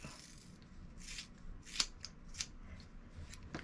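Non-professional scissors snip a boy's hair close by in quiet, irregular crisp clicks, with a couple of sharper cuts standing out and no talking.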